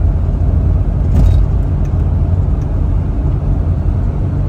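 A Jeep engine drones steadily while driving on a hot day, with a continuous low road rumble and a brief rattle partway through. Loud and close, with no talking.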